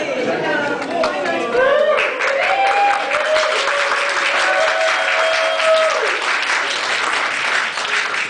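A convention audience applauds with a dense, steady wash of clapping, with raised voices and chatter mixed in throughout the crowd.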